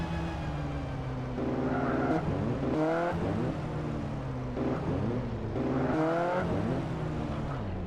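A car engine in GTA San Andreas Multiplayer revs repeatedly while the car pulls in to park, with rising and falling whines in several surges and a steady motor hum underneath.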